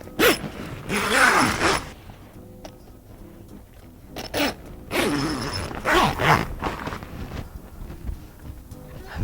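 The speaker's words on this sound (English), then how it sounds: "You just join this zipper with the first one we put up." Large number 10 zipper on a rooftop tent awning being joined and pulled, several rasping zip strokes close by, separated by quiet pauses and handling noise.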